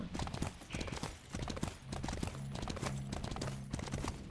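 Clip-clop of horse hooves in a video game, rapid and continuous, layered with busy game sound effects and a faint whinny-like tone, fairly quiet overall.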